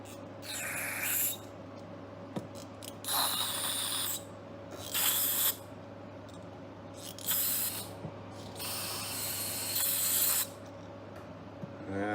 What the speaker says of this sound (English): Spray some of this carbon choke cleaner up in there.